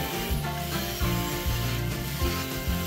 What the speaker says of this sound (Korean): 잘린 면은 한 번씩 더 다듬어 줍니다.